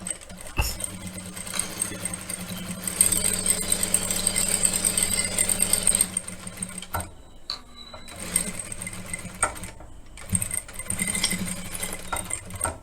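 A sewing machine stitching a blouse runs in close, loud bursts with a rapid mechanical rattle, pausing and starting again several times, with short quiet gaps between the runs.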